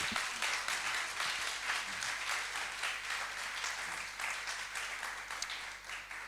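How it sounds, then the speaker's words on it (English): Steady audience applause at a civil society and communities side event, dense clapping that fills the whole stretch at moderate level and tapers slightly toward the end. "So an applause to all."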